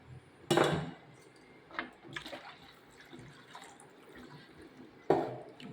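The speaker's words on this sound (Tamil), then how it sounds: "இப்போவும் தண்ணி பத்தாதுன்னு நம்ம தண்ணி கொஞ்சம் ஊற்றணும்" Water splashes into a metal pot of shark fish curry over a steady wash of background noise, with a few sharp clanks of metal.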